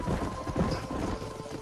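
Horse hooves clip-clopping in the Red Dead Redemption video game, a quick run of close, muffled knocks mixed with rustling and jangling gear.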